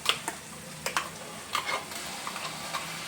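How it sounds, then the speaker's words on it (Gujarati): Onion paste goes into a frying masala paste in a pan, giving a soft sizzle broken by several sharp stirring and scraping clicks. "હવે એમાં આપણે ડુંગળીની પેસ્ટ નાખીશું।"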